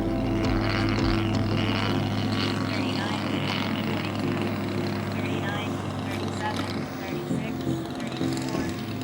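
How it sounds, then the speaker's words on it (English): Small unmanned fixed-wing aircraft flying a landing pattern, its propeller engine giving a steady loud drone with a low harmonic hum throughout, heard close with voices talking over it. "Now, the aircraft is switched into manual control, and the pilot begins to maneuver into a landing pattern mode."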